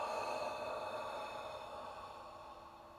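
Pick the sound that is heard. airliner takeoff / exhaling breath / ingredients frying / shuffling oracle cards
exhaling breath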